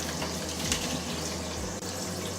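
Tap water runs in a steady, fairly loud stream while broccoli is washed under it, a continuous rushing flow with faint splashes and no voices.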